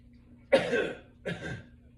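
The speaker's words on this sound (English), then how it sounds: "brace onto a pillow, exhale, and then cough" Two deliberate coughs, the first stronger and the second softer, about three quarters of a second apart in a quiet room.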